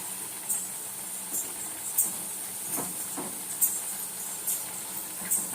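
Black gram medu vada sizzling in hot oil, a steady close hiss of frying with a few brief crackling pops scattered throughout and no talking.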